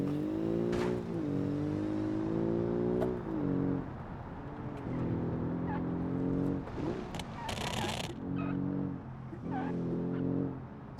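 A small sports car engine in a video game revs hard and continuously, its pitch climbing and dropping through repeated gear shifts, with brief sharp bursts between pulls.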